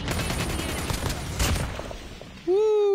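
Rapid gunfire from the mobile shooter Call of Duty Mobile during a battle royale match, a dense clatter of shots over the first two and a half seconds that ends in a sudden loud rising electronic tone.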